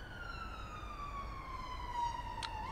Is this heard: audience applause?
no